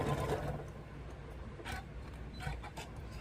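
Sewing machine stitching quilt pieces for a Christmas ornament, running straight over pins: a faint, soft mechanical whir with light rhythmic ticks and a few brief bursts, quiet and close.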